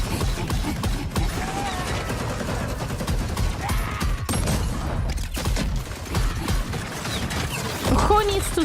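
Battle gunfire from a Total War Warhammer trailer: a sustained crackle of scattered shots and volleys under a steady din, with a few mechanical clanks and faint voices mixed in.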